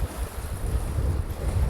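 Rough lake water rolling in and breaking against the shore at a windy point on Lake Opeongo in Algonquin Park, mixed with steady, gusty wind rumble, close and continuous with no voices.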